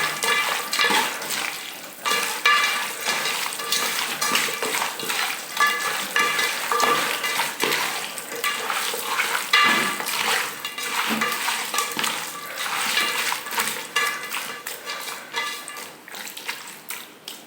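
About a kilogram of cut raw chicken pieces is mixed by hand in a bowl, giving a continuous, close, wet squishing and slapping with an uneven rhythm and no pauses.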